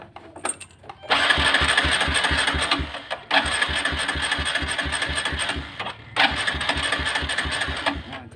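A small engine with a shorted spark plug cranks in three separate attempts, each a rapid, rhythmic chugging burst that never catches, with brief pauses between tries.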